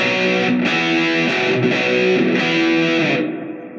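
Loud, sustained distorted electric guitar chords from a song cover fill the stretch, shifting through a few changes before fading slightly at the end.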